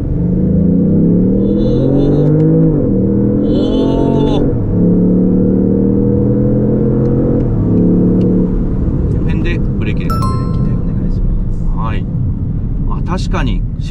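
A Lexus LBX Morizo RR pulls hard at full throttle in circuit mode on a track, its engine note climbing through rising sweeps and dropping at shifts, loud and close inside the cabin with voices talking over it.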